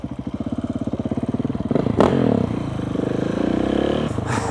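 A motorcycle idles with a rapid, even putter, then gets a light blip of throttle and pulls away under a gentle, restrained rev, close and fairly loud.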